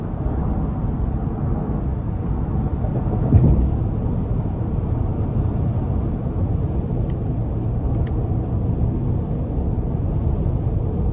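Steady deep engine rumble and road noise from a 2021 Chevrolet Suburban High Country's 6.2 liter V8 accelerating under light throttle, heard from inside the cabin at an even, sustained level.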